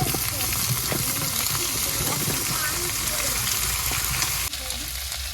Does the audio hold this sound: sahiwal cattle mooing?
no